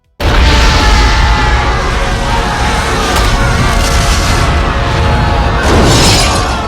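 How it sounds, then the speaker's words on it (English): A loud, sustained practical film explosion roars with crashing, shattering debris, flipping vehicles and rumbling that continues for several seconds, swelling again near the end. "triggering a genuinely great practical explosion"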